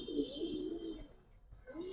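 Giribaz and coloured pigeons in a loft give a brief, soft run of throaty cooing that fades out and then starts again.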